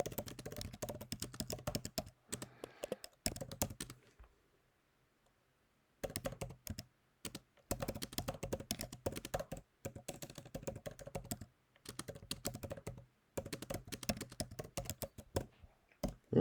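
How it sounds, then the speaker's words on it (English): Typing on a computer keyboard while entering explanatory text, close and fairly quiet, in bursts of rapid key clicks separated by short pauses. "So I type explanatory content in here."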